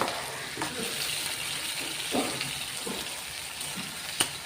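Fried onions in a pan take a large chopped tomato while cooking Sarson ka Saag, giving a steady close sizzle with a few brief stirring scrapes and clatters throughout.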